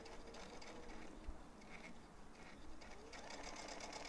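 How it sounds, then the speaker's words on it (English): Sewing machine stitching fabric for a protective face mask, a continuous rapid mechanical chatter, quiet and close, running the whole time with no talk. "I'm going to start sewing"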